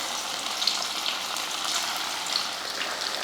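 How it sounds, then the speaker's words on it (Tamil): Chicken pieces deep-frying in hot oil in a kadai, a steady close crackling sizzle that holds evenly throughout with no talking. "சிக்கனை போட்டு பொரிச்சு எடுத்துடலாம்."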